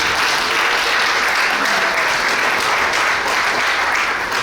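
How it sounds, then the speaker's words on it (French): Steady, dense applause for the bride at a civil wedding ceremony, a full room clapping continuously at even volume throughout. "Applaudissez pour elle, s'il vous plaît."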